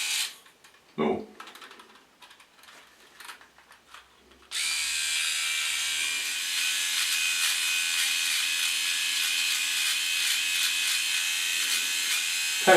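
Scattered clicks and taps come first, then a MicroTouch Switchblade electric trimmer switches on and buzzes loudly and steadily, running close by as it is moved back and forth over neck hair.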